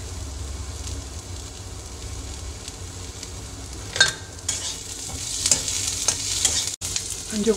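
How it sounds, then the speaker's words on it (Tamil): Onions, green chillies and curry leaves frying in a pan for Karnataka-style lemon rice, a loud steady sizzle with stirring scrapes and a sharper burst of crackling partway through, close up and without speech. "வெங்காயம், பச்சை மிளகா, கருவேப்பிலை எல்லாம் சேர்த்துருக்கேன். அது நல்லா வதங்கட்டும்."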